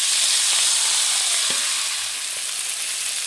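Marinated small fish, puti, frying in oil in a kadai with whole cumin and a bay leaf, giving a steady dense sizzle throughout with a couple of faint clinks.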